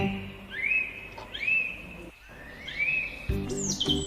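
Bright rising chirps from a small bird in a folk story, three or four clear calls spaced about a second apart, fairly close and alone with no talk.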